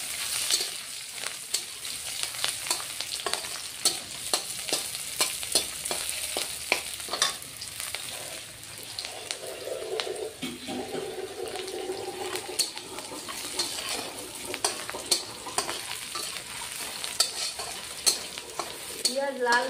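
Onions and two dried red chillies frying in a pan, a continuous near sizzle broken by repeated stirring scrapes, with a brief watery splash partway through and no voices.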